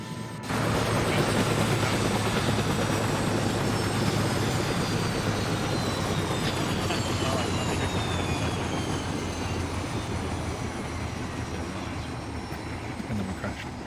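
Helicopter rotor noise from the game ARMA 3, a dense steady roar with a faint falling whine as the aircraft spools down, continuous and loud throughout, with voices speaking over it.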